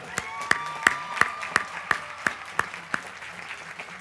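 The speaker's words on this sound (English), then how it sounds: "Give yourselves another round of applause." Rhythmic clapping rings out in regular, evenly spaced sharp claps over a wash of crowd applause at a university commencement ceremony that gradually fades.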